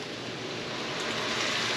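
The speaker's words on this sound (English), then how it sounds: "It's probably going to do some sizzling." Steady hissing sizzle of red wine vinegar hitting a hot pan, close and continuous, swelling slightly louder toward the end.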